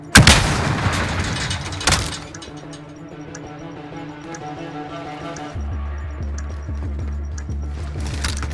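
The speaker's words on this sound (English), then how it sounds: "Bomb set. Hold for detonation." A planted bomb goes off in Call of Duty: Modern Warfare, a sharp loud blast at the start followed by a second burst, then game ambience and a steady ticking hum carry on under it.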